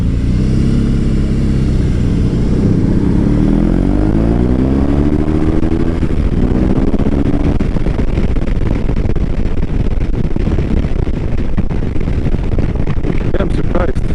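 A BMW R18 B motorcycle engine runs loud and close, with a deep low rumble and rising revs, heavy wind noise over it throughout.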